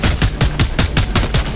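Rapid automatic gunfire in the battle-royale game Fortnite, a loud close burst of about eight evenly spaced shots with no talk.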